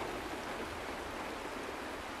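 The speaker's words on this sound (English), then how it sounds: "It is raining!" Steady rain falls in the Penacony video game, a dense, even hiss of downpour with no breaks, moderately loud and filling the whole scene on its own.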